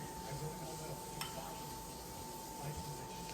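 Onion hitting a hot frying pan with a steady, dense sizzle and some stirring, close and continuous, while cooking low-carb turkey leg and cod dishes.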